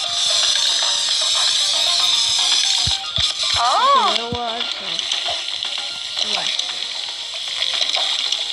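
Splashing water and a running shower stream while hair is shampooed in the Toca Hair Salon 3 game, a steady loud hiss with a few chimes and playful game sounds layered on top.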